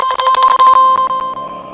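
A website's live-visitor alert rings close and loud as a rapid electronic trill of bright repeated pulses, slowing into a few spaced chirps before fading.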